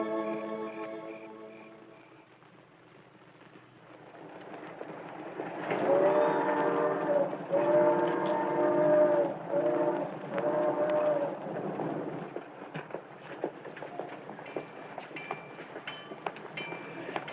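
A train pulls into a railroad station, its horn sounding in sustained blasts, followed by rumbling and clanking of cars as it comes in, with a low hum beneath.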